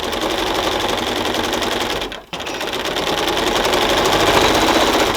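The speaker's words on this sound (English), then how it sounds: "So, here we go. Little sewing." Sewing machine running a fine stitch along quilt binding on a scrappy panel quilt, a fast steady mechanical chatter that pauses briefly midway, then resumes and runs continuously to the end.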